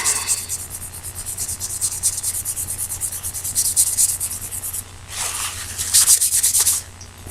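A cloth rubs excess crayon off a Smith & Wesson pistol, making close, continuous scrubbing and rubbing strokes that pause briefly near the end before resuming.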